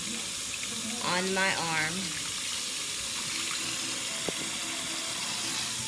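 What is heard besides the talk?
running tap water for rinsing a child's hair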